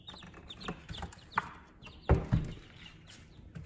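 Chickens in a backyard coop make soft clucks and chirps while feeding, with a few sharper pecking knocks and rustles close by over a quiet background.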